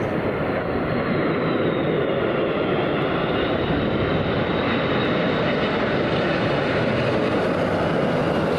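A Boeing 767 airliner on approach at London Heathrow in strong, gusty wind, with flaps lowered. It gives a steady, loud, broad engine roar that rises slightly and runs unbroken throughout, with no talking.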